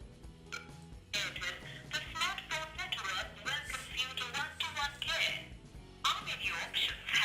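Speakerphone audio from a call placed on a Gionee Elife S5.1 smartphone, a thin, compressed voice coming through the phone's loudspeaker in bursts of talk with brief pauses.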